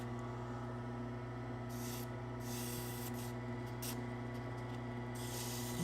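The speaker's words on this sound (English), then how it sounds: "I'm going to sand a bit of the front here." Sandpaper rubs across the face of a small wooden Shaker pull in a few short scratchy bursts over a steady background hum, near and fairly quiet.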